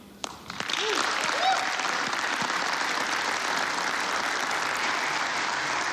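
Sustained audience applause at a political rally as Kevin McCarthy is introduced, steady dense clapping filling the room after a brief build, loud and continuous throughout with crowd noise mixed in.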